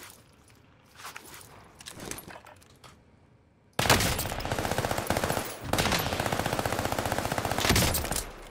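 Armaguerra gun fired in a video game: after a few faint handling clicks and footsteps, a loud burst of rapid automatic shots, a brief pause, then another sustained burst.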